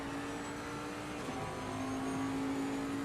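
A race car engine drones on an onboard lap of Spa in a racing video game, a steady tonal hum that holds, dips briefly and resumes evenly, fairly quiet.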